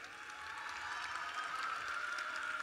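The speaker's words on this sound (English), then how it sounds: "We want to hear a loud, rousing round of applause for Maliah-Skhi Matthews." A crowd applauds at a Springfield MLK Day celebration, giving a steady wash of clapping from a large audience that holds evenly for a few seconds with no speech over it.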